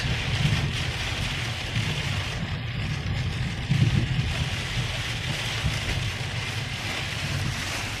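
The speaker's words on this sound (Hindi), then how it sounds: "तो अभी भी बारिश हो रही है, ये देखो" Steady, dense heavy rain pours continuously with a broad hiss and low rumble, loud and close, with no voices.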